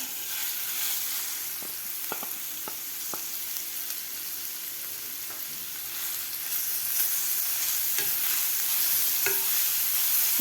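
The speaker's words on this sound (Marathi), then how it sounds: "त्यानंतर हे खिसून घेतलेलं गाजर तुपामध्ये घालायचं आपल्याला" Grated carrot frying in ghee, a steady close sizzle with a spoon stirring through it and occasional light clinks against the pan, the hiss growing slightly louder toward the end.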